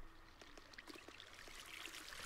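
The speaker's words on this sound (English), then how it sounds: "I just need one source of water right there." Water flows from a single placed source block in the Minecraft video game, a faint, steady trickling stream with soft bubbly detail and no talk.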